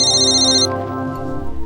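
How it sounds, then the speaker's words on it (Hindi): A mobile phone plays a loud, bright ringtone at close range: a melodic electronic tone that shifts partway through from a high chiming layer to a lower sustained pattern, with no voices over it. "अपनी रिंगटोन नहीं पहचानती?"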